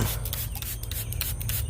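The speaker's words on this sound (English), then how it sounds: "So as you guys can see, I'm spraying a little apple juice." Apple juice sprayed onto barbecue ribs in a backyard pecan-wood smoker, a steady close hiss and rub of fine mist over a low background rumble, with no voices.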